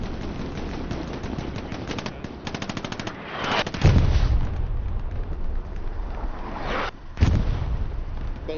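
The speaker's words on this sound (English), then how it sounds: "So that was a beautiful hit by the artillery right inside the trenches" Artillery shells slam into trenches in Hell Let Loose, with heavy booming impacts rising over a rapid rattle of machine-gun fire, two big blasts standing out loud and close, with no talk.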